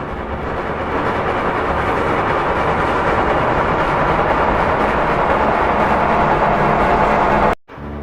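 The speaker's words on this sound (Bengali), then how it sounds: "তাই আমি চলেছি স্টেশনের দিকে ট্রেন ধরবার জন্য" A train runs with a steady, loud rumble and rattle of wheels and carriages that holds evenly throughout, then cuts off abruptly near the end.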